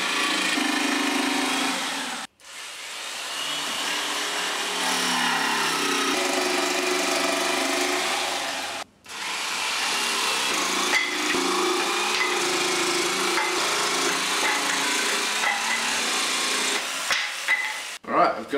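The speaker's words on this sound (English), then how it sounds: "I'm going to need the jigsaw a bit more than I've had to before" A jigsaw cuts wood for a folded horn loudspeaker cabinet. Its harsh, buzzing rasp runs in long continuous stretches, broken by two brief stops, and is close and fairly loud.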